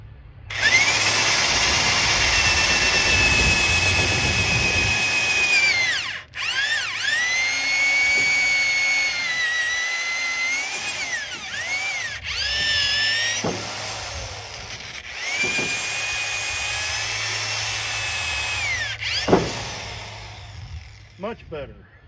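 A power drill bores into wood for a tripod, whining at high speed. The motor surges, dips and restarts in several bursts, with pitch sweeps as it loads up and releases, close and loud.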